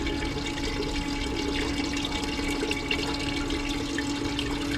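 Water runs steadily out of the side outlet of a gold prospecting sluice pipe, a continuous close gushing flow with no voices.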